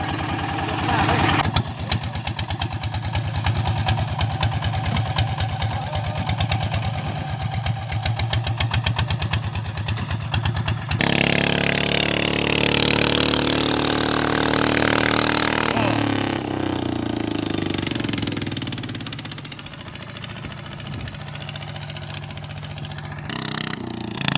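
A motorcycle engine with a new camshaft idles steadily with a throbbing mid-pitched rumble, rising briefly in a rev before settling back; voices talk over it.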